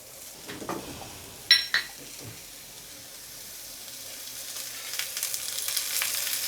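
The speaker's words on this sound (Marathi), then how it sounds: "कांदे भाजण्यासाठी मी थोडंसं तेल घालून घेणार आहे." Sliced onions sizzle and fry in a little oil for a spicy homemade chicken curry, a steady hiss that grows toward the end, broken by a few sharp metallic clinks of a utensil against the pan, with no voices.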